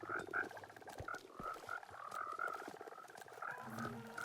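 Frogs croaking in the Minecraft video game, a steady overlapping chorus of repeated croaks from several creatures, moderately loud and continuous throughout with no talking.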